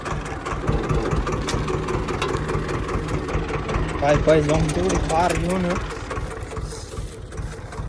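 A tractor engine idles steadily on a farm field during a first day of ploughing, a continuous low rumble throughout with someone talking over it.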